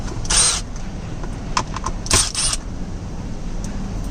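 Phillips screws being removed from a 2015 Toyota Tacoma console, giving a few short clicks and clatters close by, with two brief louder bursts and quiet handling noise between them.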